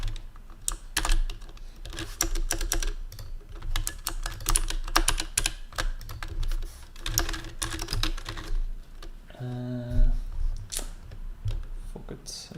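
Rapid, dense computer keyboard typing during a live coding session, continuous close-up clacking in bursts for most of the stretch, with a voice speaking briefly near the end.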